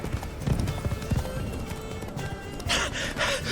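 Roach, a horse in the Witcher 3 video game, gallops with steady clip-clop hoofbeats and rhythmic thumps, then a bright whinny breaks in near the end, loud and close.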